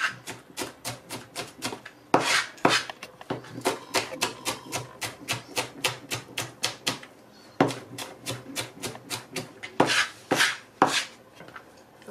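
An onion is chopped with a knife on a board in rapid, crisp taps in bursts of quick rhythmic strokes with short pauses between runs, close and clear with no talking.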